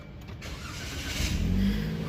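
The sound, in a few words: Daihatsu Sirion engine starting via push start button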